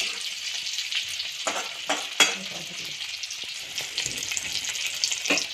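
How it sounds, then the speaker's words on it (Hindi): Small dried fish fry in hot oil for a Kuler kadha curry, giving a steady bright sizzle with occasional stirring scrapes and no talk. "उसके बाद डालेंगे ये छोटा छोटा मछलियाँ, सूखा मछलियाँ, और उसको भी थोड़ा फ्राई करना है।"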